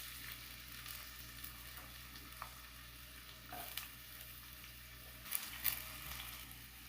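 Onions and green chilies fry in a pan with a faint, steady sizzle, quiet and continuous, with a few light stirring clinks and no talking.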